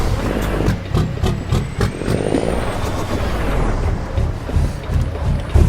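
Scania truck engine rumbling at close range, a steady low drone with a hiss like an air brake partway through, no talking.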